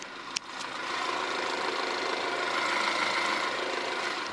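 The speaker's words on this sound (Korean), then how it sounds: "이 차량의 엔진 소리 한번 들려드리면서" A car engine idles with the hood open, an even, continuous hum after a brief click at the start, with no voices.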